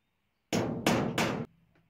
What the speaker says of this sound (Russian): Я бью по металлу.